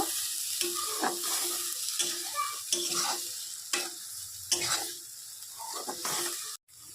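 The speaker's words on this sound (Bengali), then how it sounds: "এটাকে ভালো করে কষিয়ে নেব।" A spinach mix sautéing in a pan with turmeric and salt, heard as a close continuous sizzle broken by rhythmic scraping strokes of a spatula, stopping briefly near the end.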